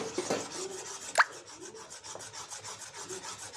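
Continuous rubbing and scraping from gram-flour batter being stirred in a bowl for Maharashtrian patwadi, a steady rhythmic swirl close up with one sharper knock, no talk.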